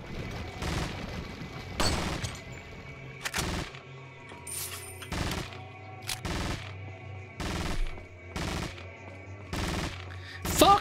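Repeated bursts of TMP machine pistol fire in Resident Evil 4, sharp rattling volleys spaced a second or so apart over a low ambient hum, loud and close with no talking.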